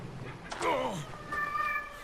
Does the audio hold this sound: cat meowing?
yes